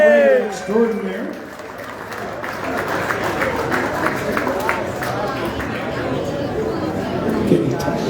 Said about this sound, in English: Nice round of applause for Mr. Randy Kozlowski right there.